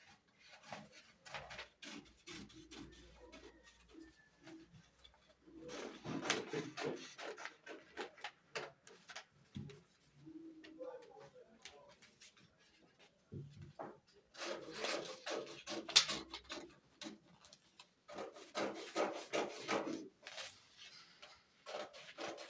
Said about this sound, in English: So I'm cutting only the red line out.